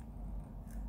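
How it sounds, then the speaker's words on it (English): Small scissors snip tying thread while a bluegill and tilapia fly is finished at the vise, a short, faint cut against a steady low room hum, with no talking. "Let's cut this off with the scissors I just dropped on the floor."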